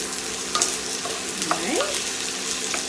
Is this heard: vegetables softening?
yes